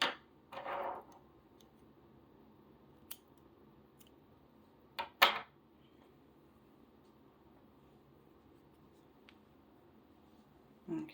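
Scissors snip crochet yarn in a few quiet, brief cuts, a soft rustle early then a sharp double snip midway and a faint final click, with near silence between.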